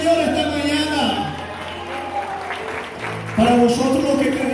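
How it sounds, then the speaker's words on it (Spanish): Applause from a church congregation during a Spanish-language service, a steady wash of clapping blended with music and voices throughout, swelling again near the end. "Den un aplauso al Señor esta mañana."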